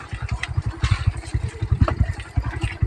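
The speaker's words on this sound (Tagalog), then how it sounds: "Ito ang motor na kalabaw ngayon." A motorcycle engine chugs close by in a steady, rapid low pulse, loud and rough as it runs along a slippery road, with no talking.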